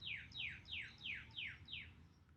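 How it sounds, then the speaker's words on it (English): Birds chirping outdoors on a sunny day, a series of six quick, evenly spaced descending chirps repeating at a steady rhythm, moderately close over faint low background noise. "You got birds chirping,"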